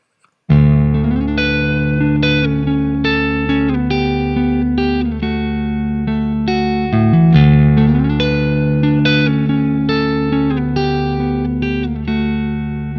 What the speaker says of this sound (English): I'll go back to the clean sound, the clean demo, and I'll put some reverb on.